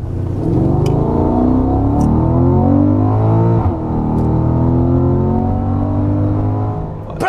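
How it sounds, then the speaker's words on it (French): A Porsche Panamera GTS engine drones and revs up and down close by, with a few sharp exhaust crackles popping over the steady rumble. "La petite mitraillette à l'échappement, c'est kiffant quand même."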